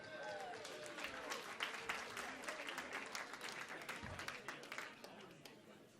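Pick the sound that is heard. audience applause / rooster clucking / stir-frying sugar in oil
audience applause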